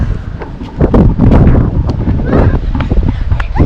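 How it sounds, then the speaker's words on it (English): Strong wind buffets the microphone on a cold mountain summit in winter, roaring in loud, uneven gusts throughout with broadband rumble. "The wind's bad up here."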